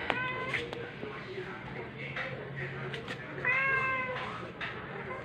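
A foster kitten meows in several short, high, wavering cries, one longer and louder than the rest, while people talk softly nearby and one voice imitates the meow.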